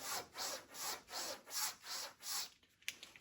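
Straight razor stroked back and forth on a Horween shell cordovan strop, about seven quiet, even, rhythmic swishes heard up close before a soft final tap.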